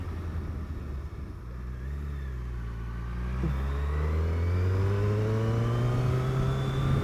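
A 2021 Suzuki Hayabusa accelerating uphill, its engine note rising steadily in pitch and growing louder over the last few seconds, with a continuous rushing wind backdrop.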